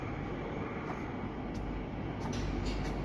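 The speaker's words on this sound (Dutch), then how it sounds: "Dat is in het interieur van de metro." Interior of a moving Rotterdam metro train, a steady loud rumble of wheels and motors with faint brief clicks and rattles over it.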